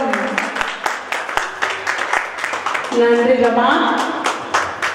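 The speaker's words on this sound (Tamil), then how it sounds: "பலத்த கரகோஷம்." Loud applause at a community get-together honoring a teacher, steady crowd clapping running throughout while people speak over it.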